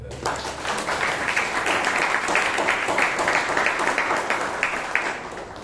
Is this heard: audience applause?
yes